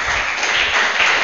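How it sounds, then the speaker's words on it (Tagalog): A church congregation claps and applauds together in a brief, steady burst of dense clapping that fills the room at moderate loudness. "Palakpak sa Panginoon."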